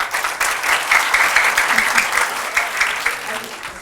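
An audience claps steadily through the whole stretch at a children's quiz final, a dense, even wash of many hands that stays loud from start to finish.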